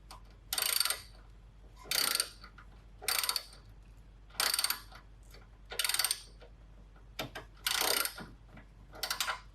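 A ratchet tightens the axle bolts on a 1992 Honda Civic hatchback with a B18C1 engine swap. About seven short, close ratcheting bursts come at a steady rhythm, each separated by quiet, with no talk.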